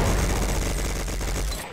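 Gunfire in a video game, a rapid burst of repeated shots in quick rhythmic succession, loud and close, cutting off near the end.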